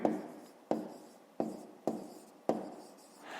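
A pen writes in a notebook during a fifth-grade maths exercise, five crisp strokes at a regular pace, each a sharp scratch that fades before the next, close and quiet with no voices.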